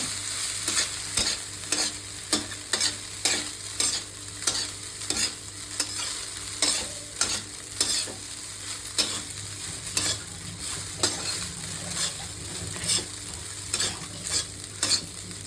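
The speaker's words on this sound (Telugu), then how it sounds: "ఇప్పుడు రైస్ వేసుకున్నాం కదా, ఇది మంచిగా మొత్తం పట్టే విధంగా కలుపుకోవాలి రైస్ మొత్తానికి." Egg fried rice is tossed and stirred in a hot pan, with a steady sizzle broken by regular scraping strokes of the spatula roughly every half second, close and alone without any talk.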